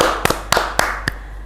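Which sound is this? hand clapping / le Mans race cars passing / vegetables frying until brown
hand clapping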